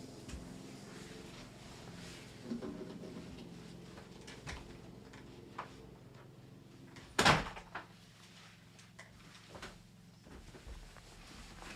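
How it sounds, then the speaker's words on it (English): A room door being shut, heard as one short, fairly loud thud partway through a quiet indoor stretch, with a few softer knocks and shuffles around it and no talking. "So let me shut that door."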